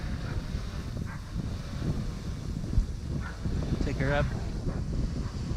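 Wind buffets a microphone outdoors during a first flight of a DJI Mavic drone, a continuous low rumbling roar with gusty swells, while a person speaks briefly.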